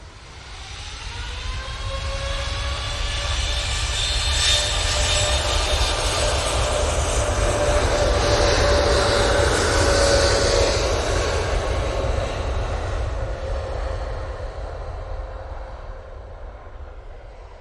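A light airliner taking off at Manchester Airport, its jet engines roaring loud and sustained as it passes, with a rising whine, swelling to a peak midway before slowly fading away.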